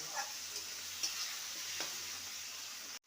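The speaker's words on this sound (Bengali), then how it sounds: "আদাটাকে ভালো মতন কষিয়ে নেব" Ginger paste sizzles steadily in a pan for a vegetarian banana-stem dish, with a few light spatula clicks over the constant frying hiss before it cuts off abruptly near the end.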